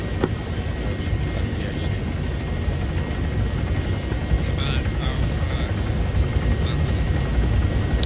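A military transport helicopter in Arma 3 hums and thrums continuously while loaded with troops, a dense low engine and rotor roar heard from inside, steady throughout with voices talking over it.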